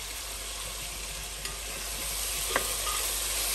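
Pepper drops into hot oil for mlokhiyeh and fries with a steady, even sizzle, joined by a couple of faint clicks of a utensil.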